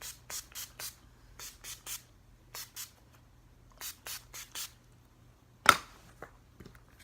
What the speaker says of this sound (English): I am going to finish off with that setting spray